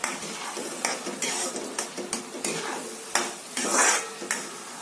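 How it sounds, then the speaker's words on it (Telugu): Sugar stirred into apple pulp in a pot for halwa, repeated close scraping and clinking strokes of a spoon against the pan over a light sizzle, with no talk. "దాంట్లో మనకి షుగర్ యాడ్ చేస్తున్నాం"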